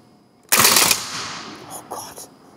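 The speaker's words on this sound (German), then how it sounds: "5 Schuss, Einzelfeuer. Feuer frei. Ich darf so 5-mal schießen." A single sharp rifle shot cracks loudly on a military firing range, followed by a ringing decay and faint distant noises.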